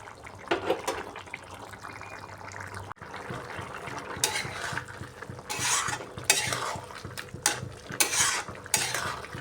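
Mixed vegetables for a dried-fish curry cook uncovered in a pan after hot water was added, giving a soft bubbling simmer broken by close, irregular scrapes and clinks of a stirring utensil. No one speaks.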